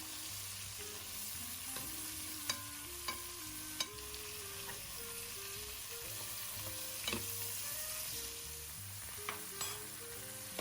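Beets roasting in a hot pan give a steady, moderate sizzle with occasional sharp crackles, playing beneath a continuous melodic music bed throughout.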